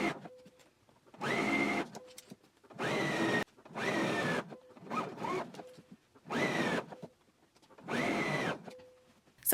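A home sewing machine stitches a garment seam at 5/8 inch, then 1/4 inch around a curve, in six steady whirring bursts of about a second each, separated by short pauses.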